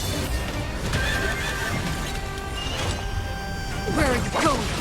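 A horse neighs and whinnies in the Honkai: Star Rail video game amid a combat mix of crashes, thuds and mechanical clatter, with a sharp high whinny rising near the end, loud and close.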